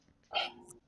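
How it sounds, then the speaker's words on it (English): A dog gives one brief, faint bark, a single short yelp standing alone in a quiet room. "My dog's calling me."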